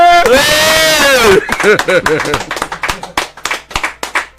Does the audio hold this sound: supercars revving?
no